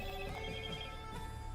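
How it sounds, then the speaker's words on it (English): A telephone rings with a steady electronic tone during a quiet moment, sounding alone and fairly soft. "Someone's phone is ringing."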